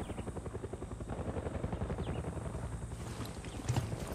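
Helicopter from the video game Far Cry 6 pursuing the player, a steady low rotor thrum and engine drone filling the background throughout, mixed with game ambience and a brief louder swell near the end.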